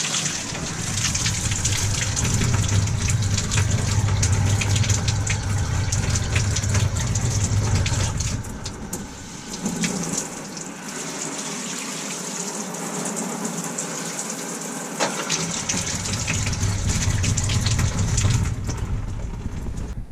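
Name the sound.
water running from RV shower during de-winterizing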